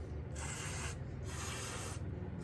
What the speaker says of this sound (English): just gonna give it a quick little spritz